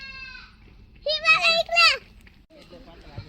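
A Beetal goat on a farm gives a bleat at the start, followed by a louder, wavering bleat in the middle. The bleats sit close and clear over a low background, with brief human sounds near the end.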